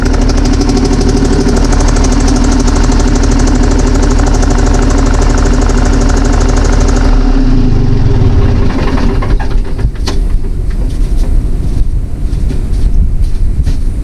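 Old loader's engine, loud and close, with a steady heavy rumbling drone for about seven seconds that then shifts into a rougher, knocking running sound with wind buffeting the microphone, no talking.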